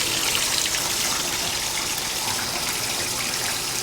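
Water gushing steadily into a film wash bath in a darkroom, a loud, continuous rush of running water without pause.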